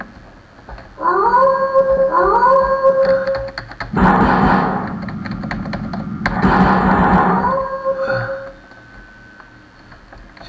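A wolf in a horror video game lets out long, loud, wavering howls, one rising call followed by two sustained wailing blasts, set over game ambience with a player's voice around it.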